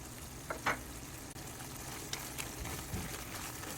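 Minced garlic and ginger frying in a pan for stir-fried bok choy with ground meat, a soft continuous sizzle with a few brief stirring scrapes, fairly quiet and close.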